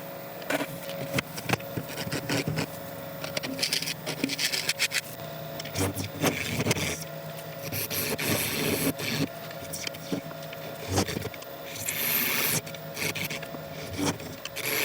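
A lathe tool cuts a recess into rotten elm wood, giving a continuous rough rasping scrape with grainy bursts and a faint steady motor hum underneath, close and fairly quiet.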